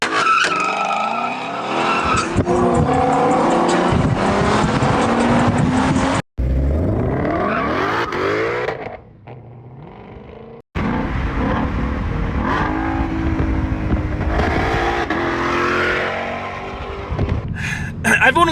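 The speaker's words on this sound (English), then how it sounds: "doing some burnouts and launching this thing" A Shelby GT500 performs burnouts and hard launches, tires screeching and the engine revving loudly in bursts with brief breaks between runs, while voices speak over parts of it.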